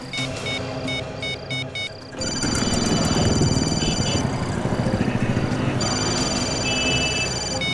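A phone rings nearby with repeated electronic tones in short patterned bursts, then longer sustained tones over a rumbling background noise.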